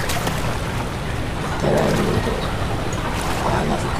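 Water sloshes and rushes in a scene from the game Amnesia, a washy splashing that surges louder halfway through and continues steadily, with no talking.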